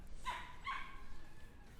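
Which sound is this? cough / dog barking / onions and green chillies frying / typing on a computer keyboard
dog barking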